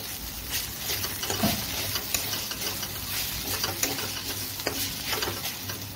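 Vegetables fry in a kadai with magic masala as the mix is stirred, giving a steady sizzle broken by scraping, clinking stirs, close and continuous with no talking.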